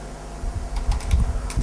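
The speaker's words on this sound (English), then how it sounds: "Just one message I am typing" Keys clack on a computer keyboard while a C program is typed, an uneven run of light taps over a low background hum.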